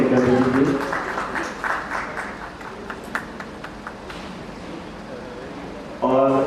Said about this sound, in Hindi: तालियां नहीं रुकनी चाहिए प्लीज